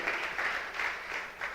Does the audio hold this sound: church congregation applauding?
yes